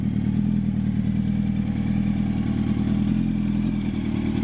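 A 2007 Yamaha YZF R-1 motorcycle with an M4 aftermarket exhaust runs close and loud, holding a steady, deep engine drone throughout with no voices.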